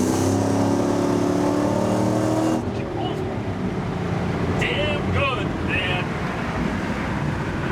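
The V8 engine of an LT-swapped Pontiac Trans Am drones with a steady low hum, then gives way to wind buffeting the microphone, with brief voices in the background.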